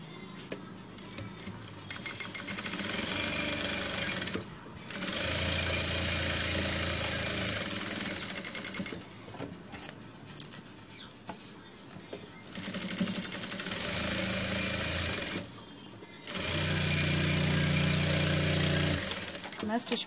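A sewing machine runs in several loud, close bursts as it stitches the edge of a baby napkin, its rapid mechanical chatter stopping and starting, with someone talking during the pauses.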